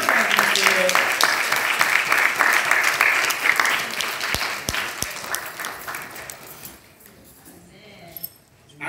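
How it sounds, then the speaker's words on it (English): A Baptist church congregation gives a loud, sustained round of applause during an evening service. The clapping is full and close for about seven seconds, then quickly dies away to near quiet. "Church, give this church family a round of applause."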